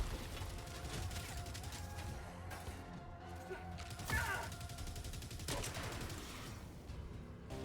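Minigun Devastator with a shield firing in the video game Helldivers 2, a dense, continuous spray of rapid gunfire with impacts and crashes running throughout, loud and close with no pause.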